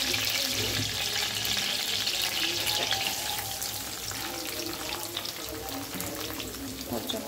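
Onions frying in a pan while rice is cooked for a chicken curry and fried rice meal: a steady, loud broadband sizzle holds throughout, with faint clatter on top.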